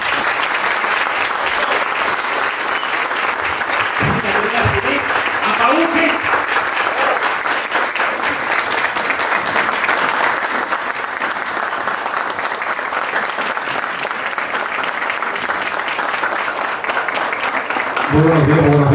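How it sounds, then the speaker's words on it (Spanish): Sustained applause from an audience at a digital marketing workshop: dense, steady clapping that runs for nearly twenty seconds, with brief voices over it near the start and at the end. "este aplauso es para nuestros líderes"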